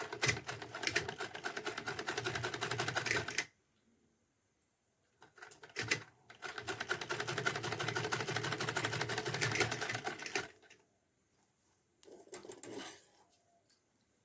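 An electric sewing machine stitches a doll's summer dress for a Laddu Gopal idol in several long runs of fast, steady needle chatter. Short quiet pauses fall between the runs.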